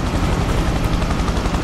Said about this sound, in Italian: Ok, anche elicotteri da tirare giù.